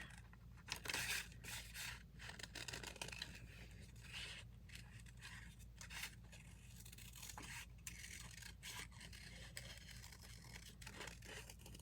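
Scissors fussy-cutting paper around a small fairy image for a collage, a steady run of close, quiet snips and scraping paper rustles with short pauses between cuts, no talking.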